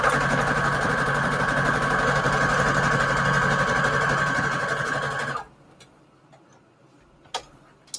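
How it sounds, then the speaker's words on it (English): A sewing machine runs a zigzag stitch through fabric ruffles, a fast steady mechanical whir and ticking for about five seconds, then it stops, leaving quiet room tone with a couple of small clicks. "Okay, so let's do a zigzag stitch here."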